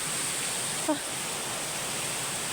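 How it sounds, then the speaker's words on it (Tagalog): A small waterfall pours in a steady, broad rush of water that fills the whole clip, with a brief faint bird chirp near the start. "Yan guys, pinakamaliit na waterfall."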